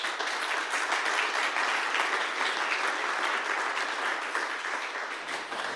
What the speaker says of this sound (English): Please join me in welcoming her with a warm applause